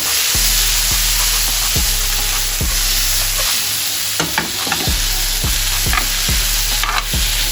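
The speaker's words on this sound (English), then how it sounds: "we're just going to coat and finish cooking our beautiful prawns in this beautiful butter" Prawns fry in chilli garlic butter in a pan, a loud continuous sizzle with rhythmic scraping thumps as they are rolled and stirred around, no talking.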